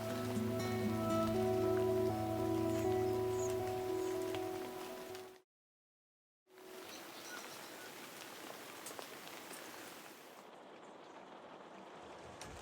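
Rain falling in a 17th-century cottage garden, a soft steady patter heard faintly under a sustained tonal hum at first, then alone after a brief silence.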